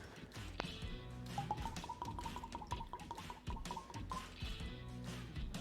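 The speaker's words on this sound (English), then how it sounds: "It'll be interesting to see if I can pour an ounce from this ginormo bottle." Scotch glugs out of a very large bottle in a quick rhythmic run of gurgles lasting a few seconds, close up and fairly quiet.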